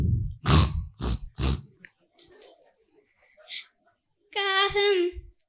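A child imitates a pig, voicing a few short, rough grunts in a row, then softer snorting sounds and a longer, strained grunting call near the mic.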